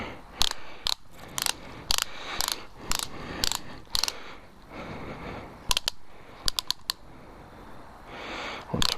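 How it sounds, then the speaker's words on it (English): A torque wrench tightening a motorcycle drive chain axle nut on a Yamaha FZ-10 ratchets in quick bursts of sharp, close clicks, pausing between pulls before a faster run of clicks near the end. "Bring your torque wrench to 137 foot-pounds."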